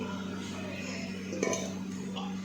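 Boiled rice is tipped into a pan and stirred with masala moong, giving soft scraping and a metallic clink of utensil against the pan over a low background hum.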